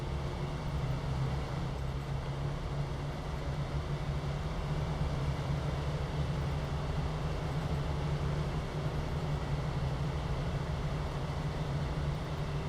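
An upgraded, unloaded Chevy pickup in the video game SnowRunner cruises along a flat, straight paved road, giving a steady, unbroken engine and road drone with a low hum that stays even the whole way through, with no talking.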